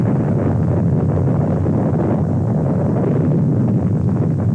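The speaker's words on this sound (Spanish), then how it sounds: "La explosión lanzó 10 millones de M3 de tierra, creando un cráter enorme." A Soviet archival underground nuclear test explosion is heard as a sustained, loud, deep roar and rumble that holds steady throughout without any break.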